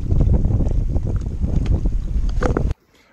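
Wind blowing at the rocky shore of Moon Lake, Utah, buffets the microphone in strong gusty roars for under three seconds before cutting off abruptly to near silence.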